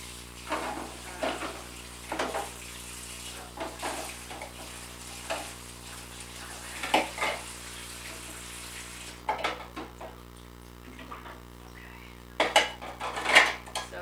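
Dishes and food processor parts being rinsed and handled at a kitchen sink, with intermittent clinks and clatters of utensils and containers over a steady background of running water.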